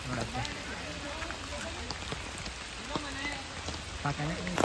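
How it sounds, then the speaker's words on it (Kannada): Heavy rain falls on the road to Surmane Falls in Chikmagalur, beside coffee estates, a dense steady patter on surfaces with voices talking faintly underneath. "ಮಳೆ ಜೋರ ಹೊಡಿತಿದೆ"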